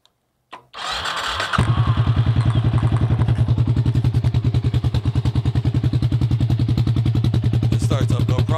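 A Suzuki S40 Boulevard engine whose exhaust has fallen off cranks briefly, then catches and settles into a loud, raw, rapidly pulsing idle, throaty and unmuffled, running steadily to the end.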